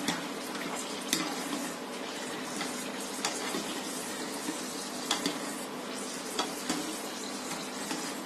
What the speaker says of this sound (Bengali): আমি বাকিগুলিও এরকম করেই ভাজবো।